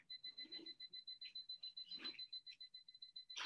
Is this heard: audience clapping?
no